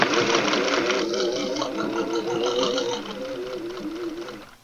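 A sewing machine stitches steadily through thick layers of recycled towels, its motor whirring with a rapid rhythmic needle chatter at close range that gradually fades toward the end.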